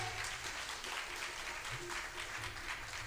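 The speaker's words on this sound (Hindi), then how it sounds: "तो जोरदार तालियां हो जाए।" Steady applause from a crowd at a singing academy's annual function, sustained and fairly even throughout, heard at a moderate distance with no voices standing out.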